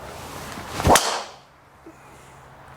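A single sharp swish and crack of a golf club striking a ball, close and loud, followed by quiet outdoor ambience.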